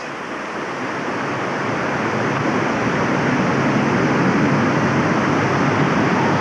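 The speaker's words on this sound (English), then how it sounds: "The falls from the hatchery that goes into the current river" Hatchery waterfall at Montauk State Park, Missouri, pouring into the trout river, a steady full-band rush of falling water that swells slightly and holds loud and close throughout with no voices.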